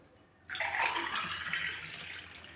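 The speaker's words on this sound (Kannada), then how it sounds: "ಹಾಕ್ಕೊಡಮ್ಮ ನೀರು, ಸ್ವಲ್ಪ" Water poured from a vessel into a container while preparing rice-flour dough for sandige and happala, a steady close splashing stream that starts abruptly and runs continuously for about two seconds.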